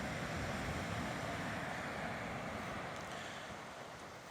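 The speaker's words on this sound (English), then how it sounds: "Big waves." Big Pacific Ocean waves roll and surge along the coast in a continuous broadband wash mixed with wind, steady and fairly distant, easing slightly toward the end.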